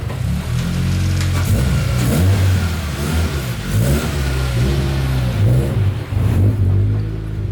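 A turbocharged Scion FRS with no front bumper revs loudly, close by, with repeated throttle blips and surges over a rough running engine as it pulls out of a garage.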